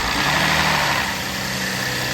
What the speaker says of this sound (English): And plus it's got bearing noise now.